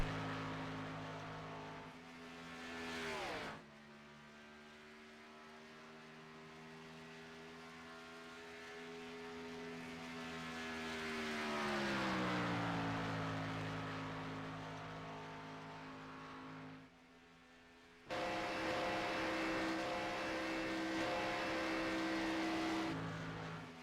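Race car engines in the iRacing game at Daytona International Speedway during single-car qualifying, a loud, steady droning engine tone that rises and falls in pitch as the car circles the oval, with abrupt cuts between views.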